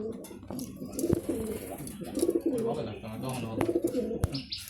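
Racer pigeons in a loft cooing in repeated soft, throaty bursts close to the microphone, with several birds overlapping and a few sharp clicks and flutters between calls.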